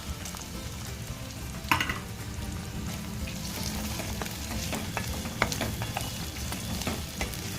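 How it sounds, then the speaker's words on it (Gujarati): Rawa upma with potatoes sizzles in a pan as it is stirred, a soft, steady frying hiss broken by occasional scraping clicks and light knocks of a spoon, with no talking. "સારી રીતે ચલાવી લેશું તેમાં બટેટા ઉમેરી દેશું"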